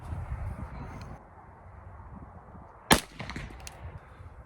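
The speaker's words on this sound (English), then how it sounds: "so we'll go ahead and shoot a couple and see what it's doing." A single sharp gunshot from a Ruger LC carbine firing Underwood hard cast bullets outdoors, a loud crack standing out against low background rumble.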